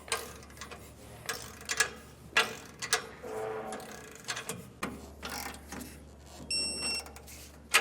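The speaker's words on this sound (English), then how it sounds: "now we'll come back and we'll do our U-bolt nuts, and we'll torque those down as well" Ratcheting clicks from a torque wrench tightening the U-bolt nuts on Air Lift LoadLifter 5000 Ultimate air helper springs, arriving in short irregular bursts with pauses, close up and fairly quiet over a steady low hum.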